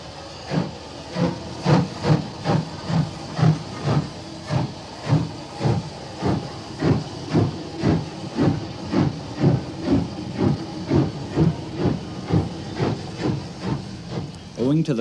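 An elderly steam locomotive at Edinburgh Waverley Station gives off rhythmic hissing bursts of steam, steady and fairly close, repeating about once a second throughout.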